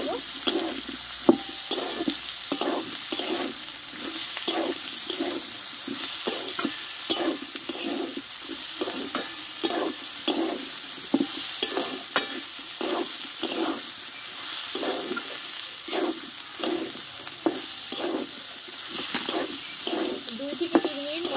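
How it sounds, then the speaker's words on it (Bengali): Spices, tomato and onion stir-fried together in a pan for a spinach dish, with a steady sizzle and repeated scraping strokes of a spatula at an even rhythm throughout, close and moderately loud. "এই মশলা টমেটো পেঁয়াজগুলো একসঙ্গে ভালোভাবে কষে নেব।"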